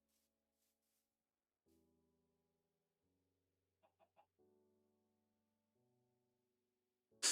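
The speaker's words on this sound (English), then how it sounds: "Like chickens swimming for some reason on this island." Chickens in Minecraft on an island, a few brief clucks heard faintly amid quiet game tones, ending with a sudden louder burst.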